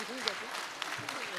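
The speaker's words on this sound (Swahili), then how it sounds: "Tujipikie makofi tena kidogo." Crowd applause at a Jukwaa la Usalama public security forum in Kericho County, a brief burst of clapping mixed with a speaking voice.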